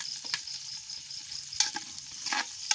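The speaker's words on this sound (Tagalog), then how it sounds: "Lalagay na yung ating ricado. Bawang. Halu-haluin. Sibuyas." Garlic and onion sauté in a pan with a steady, close sizzle, broken by several sharp scraping clicks as the mixture is stirred; no one speaks.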